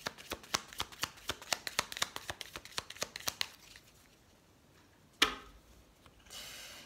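A deck of tarot cards being riffle-shuffled, a quick run of crisp, evenly spaced card snaps that stops partway through, followed by a single sharp tap and a soft rustle.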